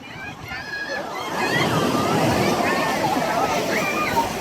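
Surf washes in steadily along the Sanya coast at Tianya Haijiao as the tide rises, a broad continuous rush with wind noise and people's voices nearby.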